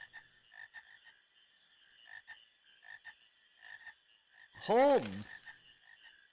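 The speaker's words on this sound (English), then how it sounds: "Aha, frogs." Frogs croaking in the Final Fantasy IX video game, a series of soft rhythmic croaks followed by one loud, close, warbling croak.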